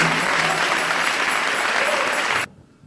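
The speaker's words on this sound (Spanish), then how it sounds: "Dele ese aplauso de alabanza al Señor." A church congregation claps in praise during a testimony service, a dense, loud wash of applause that holds steady and then cuts off abruptly near the end, leaving quiet room tone.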